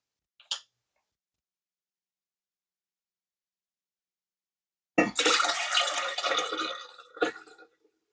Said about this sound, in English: All right, now I need 4 cups of filtered water.